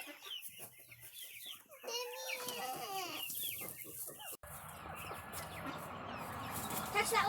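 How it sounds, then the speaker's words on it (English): Chickens cluck and squawk inside a farm chicken coop in the morning, several birds calling close by in overlapping bursts, followed by a denser, busier wash of coop noise. "This is the chicken coop in the morning."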